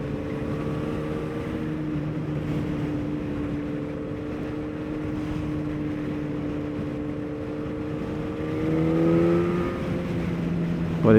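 A four-cylinder motorcycle engine drones steadily at cruising speed, a buzzing hum with a brief rise in revs near the end.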